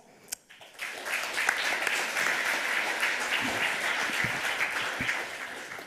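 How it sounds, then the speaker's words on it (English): A conference audience at a hacker congress welcomes a speaker with a sustained round of applause that swells in after a brief pause and continues evenly as many hands clap together. "A round of applause."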